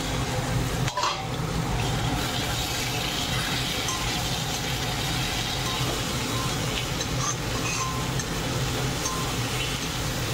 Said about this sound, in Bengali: এখন ডিমগুলো ছেড়ে দেবো, ভাজা ডিমগুলো